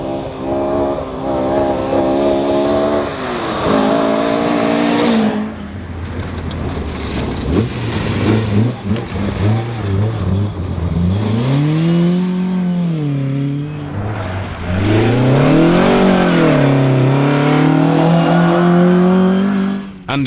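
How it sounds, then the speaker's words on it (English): A 1974 Ford Escort Mk I RS2000 historic rally car on the Chepstow rally stage, engine revving hard through rising and falling gear changes, loud and close, with a brief lift before accelerating away again. "are we finding out exactly what a 1974 historic RS2000 does on the Chepstow rally stage now?"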